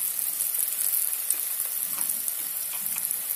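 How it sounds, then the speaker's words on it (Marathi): Pieces of taro root (arbi) fry in hot ghee with a steady, close crackling sizzle and soft spits and pops throughout, no voices. "आता करू तुपावर फ्राय करायचं"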